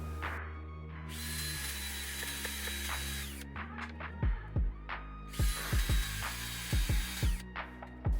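A power drill drills and countersinks holes in luan plywood, whining loudly in two sustained bursts, with sharp knocks and clicks from handling the workpiece between and after them.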